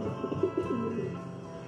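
A pet pigeon coos indoors in a few soft, low, rounded notes, close but fairly quiet over a steady background hum.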